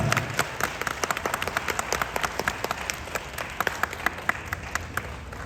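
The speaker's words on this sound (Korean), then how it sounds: "다시 한번 큰 박수 부탁드립니다" Guests applaud at a wedding ceremony, a crowd's continuous clapping with sharp individual claps popping out clearly and steadily from start to finish.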